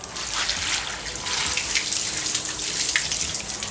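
Tap water runs steadily over grapes being washed in a sink, a continuous splashing hiss with small drips and spatters, fairly close and without any talk.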